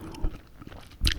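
Close-up gum chewing during a whispered ASMR session: soft wet mouth smacks and a couple of sharper snaps, intimate and near, with no talking.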